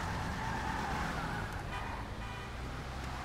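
A car in GTA 5 Online drives along with a steady engine rumble and road noise at moderate volume, and a faint horn-like tone shows up briefly.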